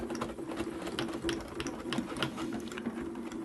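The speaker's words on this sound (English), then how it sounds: "just run that through my cutting machine" A die-cutting machine feeds a plate through while cutting pieces for a floral display box. It makes a close, continuous mechanical whirr with fast, even clicking throughout.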